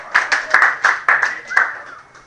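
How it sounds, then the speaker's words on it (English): Brief scattered handclaps from a small audience in a classroom, a handful of separate claps over a couple of seconds rather than full applause, with some murmuring voices. "A round of applause for the sun and the earth."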